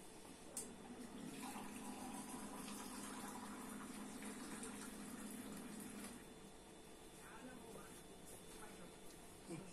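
Boiled water poured steadily into a container in a home kitchen, a continuous close splashing and trickling wash running for about six seconds before tapering off.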